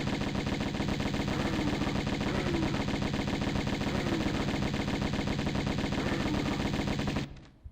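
Rapid sustained gunfire in the video game Tomb Raider Remastered, a loud dense stream of shots in an even rhythm for about seven seconds, then stopping abruptly.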